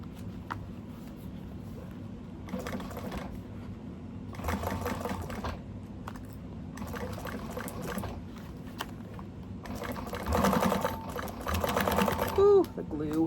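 A sewing machine stitches along a seam allowance in several close, rapid bursts of whirring, separated by short pauses, with a person talking over parts of it.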